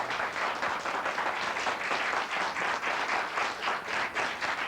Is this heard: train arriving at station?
no